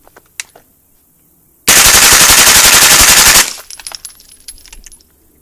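Suppressed 9mm fire from a CMMG upper with a 4.5-inch barrel and Dead Air Primal suppressor, a loud close rapid burst of evenly spaced shots lasting under two seconds, followed by clinking brass and faint shuffling.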